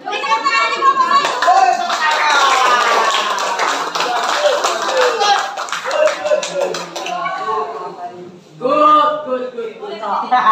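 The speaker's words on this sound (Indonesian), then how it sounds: "Beri tepuk tangan di kelompok satu." A group of students in a classroom clapping hands in applause, a dense steady patter of claps carrying on for several seconds with voices and chatter mixed in, then a short pause and a final burst.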